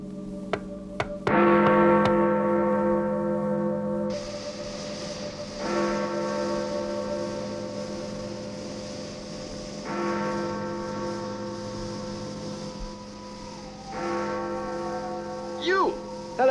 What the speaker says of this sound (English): Interesting chimes you have there.